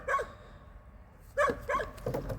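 A puppy at a garbage dump gives a short bark, then after a pause three more quick yips and barks, close and moderately loud against quiet outdoor background.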